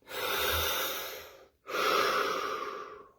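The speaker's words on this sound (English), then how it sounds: "Here we go, 3 breaths." Deep, slow breaths sound close and loud, each a long airy rush lasting over a second with a brief pause between, two full breaths audible and no talking.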